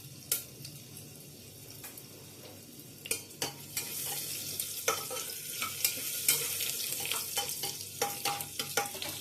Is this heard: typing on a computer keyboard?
no